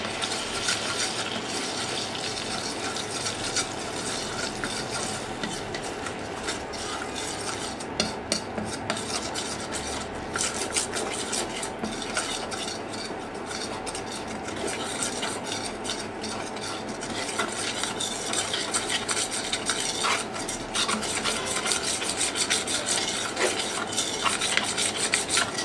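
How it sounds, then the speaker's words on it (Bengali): Gram flour (chickpea besan) frying in oil while being stirred, a dense continuous scraping and rasping of a utensil against the pan with soft sizzle underneath, close and steady throughout, with no voices. "এবার বেসনটাকে আমি এই তেলের সঙ্গে সুন্দরভাবে ভেজে নিই।"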